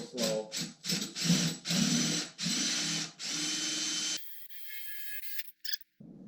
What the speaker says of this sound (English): we've gone through the gel coat now, and we're starting to get into the fiberglass. So I'm going to turn the drill around